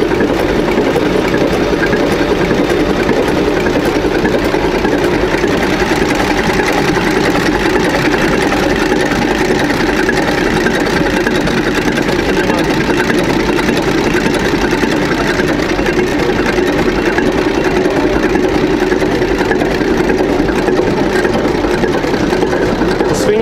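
A ship's diesel engine built by Grenaa runs steadily in a Danish engine collection, a continuous loud mechanical drone with rhythmic knocking that holds evenly and close throughout, with no speech over it.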